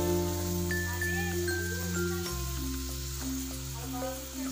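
Chopped onions, carrots and beans fry in a pan for egg Maggi, a steady close sizzle under a loud sustained tonal background, with no speech.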